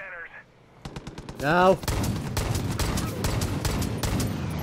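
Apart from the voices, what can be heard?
hand cannon gunfire in video game Far Cry 5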